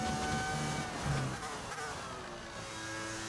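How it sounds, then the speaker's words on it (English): A Formula 1 race car engine in the F1 25 video game, running with a suspected fault: a steady, buzzing high-revving whine with shifting tones, loud and close throughout, with no talk. "There's some sort of noise in the engine that does not sound good right now."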